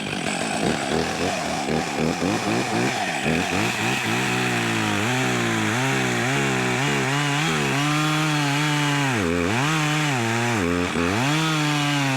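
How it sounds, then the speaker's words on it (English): A chainsaw revs up and cuts steadily through pine, its loud engine whine rising and dipping as the blade bites, close and continuous. "I did not do that with this saw this morning, so we'll see how it cuts."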